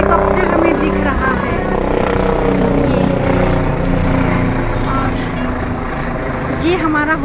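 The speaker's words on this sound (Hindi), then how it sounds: "और एक हेलीकॉप्टर हमें दिख रहा है ये" A helicopter passes overhead outside a hotel in the mountains on the way to Yamunotri. Its steady, loud drone runs throughout while people talk nearby.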